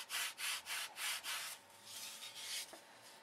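Wood is hand-sanded on a model airplane stabilizer for a control line electric plane, with about six rhythmic back-and-forth rubbing strokes and then a softer, smoother stretch of scraping, close and quiet.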